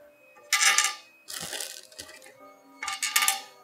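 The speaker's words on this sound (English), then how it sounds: "So I'm just gonna throw the screws in each corner." Small screws are dropped into the corners of a Longer LK1 Plus 3D printer bed during assembly, making three separate bursts of bright metallic clinking and rattling, close up.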